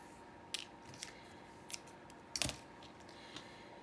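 Scissors trim small thread snippets with a handful of faint, crisp snips spread irregularly over a few seconds, one slightly louder cut near the middle, close and quiet with no talking.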